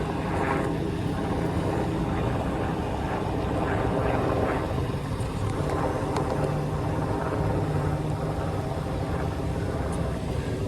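A small RC micro boat fitted with a 3000 kV motor runs steadily on the water, giving a continuous buzzing whine that carries through the whole stretch at a moderate distance.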